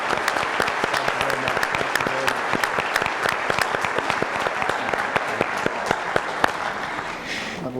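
At an insurance agents' awards and installation banquet, a room of guests applauds the sponsors with sustained, lively clapping and sharp individual claps standing out, tapering slightly at the end.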